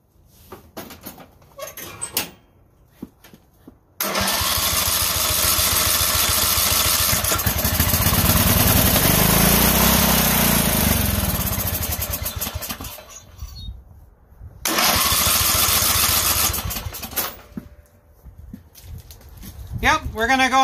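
An old weed eater, its ignition coil patched with liquid electrical tape, is pull-started: a few short rope yanks, then the small two-stroke engine catches and buzzes loudly for several seconds, dies, and roars again; someone talks between attempts.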